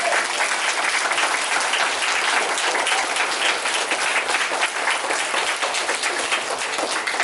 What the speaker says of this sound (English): Can we get one more round of applause for all these great speakers?